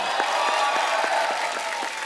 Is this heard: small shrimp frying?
no